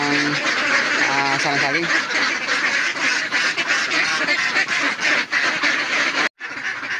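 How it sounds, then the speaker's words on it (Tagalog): Domestic ducks quack loudly and continuously as they are fed, a dense overlapping clamor of calls close by that runs almost without pause, with a few short human sounds mixed in near the start. "pakain na pa tayo ng ating itik"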